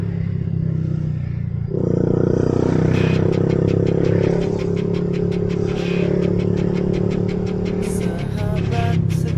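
A Lagenda 115fi motorcycle engine rumbles loudly up close, revving up after a moment and running steadily with a rattling, ticking clatter over the drone.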